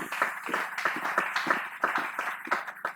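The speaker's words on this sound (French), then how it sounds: "Est-ce que tu peux l'acclamer s'il vous plaît?" A church congregation applauds, many hands clapping in a steady, rhythmic beat that carries at moderate volume throughout the few seconds.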